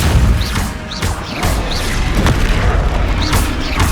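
Depulso spell impacts in Hogwarts Legacy, a run of heavy booming blasts with crashing debris, loud and close, repeating in quick succession with no talk.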